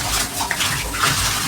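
Rice is tipped into a pot of boiling water for chicken biryani, giving a continuous, close rushing and bubbling water sound with no talk.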